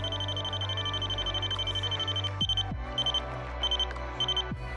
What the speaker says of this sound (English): Wait for the buzzer to sound. Three different beep patterns will determine the interface.